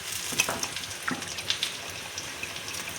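Soaked rice for biryani is poured into a pot of boiling water, giving a soft bubbling, sizzling churn with scattered splashy crackles and light patters, fairly faint and alone.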